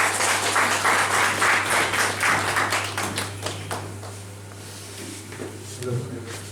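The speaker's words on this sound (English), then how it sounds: "please welcome him with a great applause" Audience applause in a school hall at an in-house event, a burst of many hands clapping that thins out and fades toward the end, with a steady mains hum underneath and faint voices emerging as it dies down.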